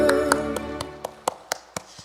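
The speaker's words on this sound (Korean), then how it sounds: "하나님께 영광의 박수 드리겠습니다." A church congregation claps during a Sunday service. The claps are evenly timed, about four per second, under fading musical tones that die away, leaving the sharp beats alone.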